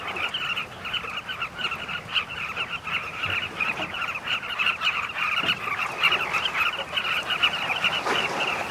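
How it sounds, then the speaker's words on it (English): A dense colony of hundreds of carmine bee-eaters at nesting cliffs near the Okavango River keeps up a continuous chorus of overlapping calls, loud and steady throughout. "hundreds of carmine bee-eaters migrate southwards to nest and breed in these cliffs"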